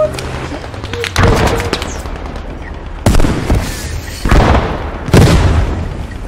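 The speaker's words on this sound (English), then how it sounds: "Alright, I'm throwing the grenade in. I'm on top of the tank." Explosions and gunfire erupt around a tank in the WWII video game Post Scriptum: several loud, booming blasts in sequence, close and heavy, over constant battle noise.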